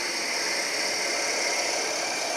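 A wood lathe spins at about 1,000 rpm while a bit drills into a wooden blank, giving a steady, even motor hum and whine with a broad hiss and no pauses or voices.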